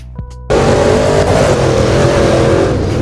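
A Testarossa's engine drives in Roblox Midnight Racing Tokyo. It cuts in abruptly after a brief quiet start, then holds a loud, steady, close engine roar with no talk.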